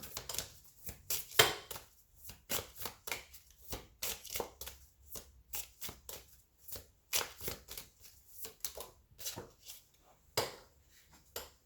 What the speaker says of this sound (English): Too many cards fell out.